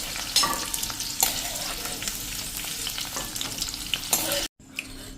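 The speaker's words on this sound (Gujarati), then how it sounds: "સોતે કરી લેશું।" Chopped onion and capsicum sautéing in a hot pan, a loud, steady sizzle broken by a few stirring scrapes, close up, with a brief drop to near silence just before the end.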